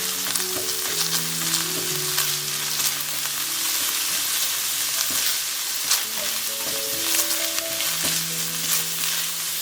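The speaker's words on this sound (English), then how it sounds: "And then put in the cumin we grinded earlier, sugar, and salt to taste." Lamb is stir-fried with ground cumin, sugar and salt in a hot pan, giving a loud, continuous sizzle broken by frequent scraping and tossing strokes.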